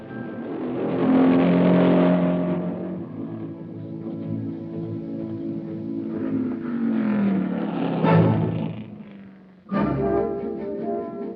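A race car at the 1965 Pikes Peak Hill Climb accelerating hard from the start, its engine rising and falling through gears with a sudden loud burst near the end.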